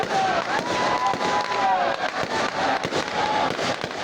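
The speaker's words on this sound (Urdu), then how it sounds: "تقریب کے اختتام پر آتش بازی کا بھی شاندار مظاہرہ کیا گیا۔" Fireworks display at the end of a ceremony, a continuous crackling and popping with whistling rockets rising, heard beneath a newsreader's voice.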